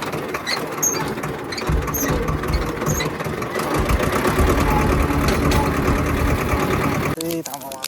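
A tractor engine idles with a steady low rumble and mechanical clatter, running continuously under people talking outdoors, then cuts out near the end.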